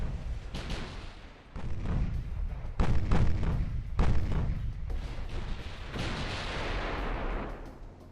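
Naval gunfire in Ultimate Admiral: Dreadnoughts, a series of heavy booming cannon shots and rumbling blasts in rapid succession over several seconds, loud and close with overlapping echoes.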